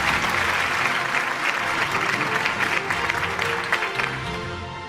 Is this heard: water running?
no